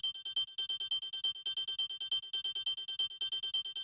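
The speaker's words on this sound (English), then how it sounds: "Just this like synthy percussion sound going through a bit of echo." Synthy metal percussion for industrial techno, a fast bright metallic ticking pattern repeating steadily with echo smearing each hit, loud and close with no other sounds.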